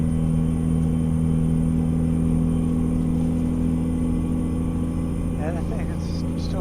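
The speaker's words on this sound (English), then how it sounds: "And I think it's still a pretty loud truck." A steady, loud rumbling drone from a Kenworth 521 Needle Nose truck engine in American Truck Simulator, hauling horses in an Elite straight-side trailer, with faint speech near the end.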